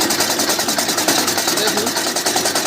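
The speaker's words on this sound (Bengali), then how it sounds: "সেই মেশিনে খড় কোথা হচ্ছে আপনারা দেখতেই পাচ্ছেন" Straw cutting machine chopping straw for poultry bedding, a loud steady mechanical whir with rapid rhythmic chopping pulses, close and continuous.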